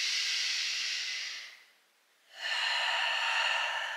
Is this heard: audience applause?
no